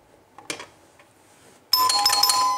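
A household doorbell wired through a master on/off switch rings loudly and steadily in the last second, after a few faint clicks from the switch and wiring.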